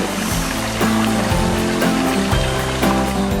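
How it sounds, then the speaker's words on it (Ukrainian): Rushing water from the Ternoshorsky Huk waterfall in the Carpathians makes a steady, loud, close roar, with a low rumbling layer that shifts in steps underneath. "таку назву їм дали місцеві жителі через гучність падіння води"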